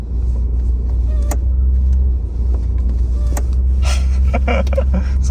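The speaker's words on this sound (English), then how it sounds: "Here's that squeaky clutch noise." Squeaking from the clutch pedal of a cold Mitsubishi 3G Eclipse in winter, short repeated squeaks rising over the loud, steady rumble of the idling car interior.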